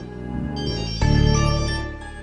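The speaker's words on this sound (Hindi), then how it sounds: "हाँ फोन आ रहा तुम्हारा।" A mobile phone ringtone plays in a home setting, a steady tonal melody that shifts and grows louder partway through, sounding clearly with no talk over it.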